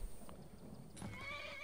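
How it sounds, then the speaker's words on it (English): A horse neighs loudly in Skyrim, a drawn-out whinny rising over soft hoof clops and a quiet ambient background. "this is Shadowmere coming from the depths. Check him out. He is my horse now"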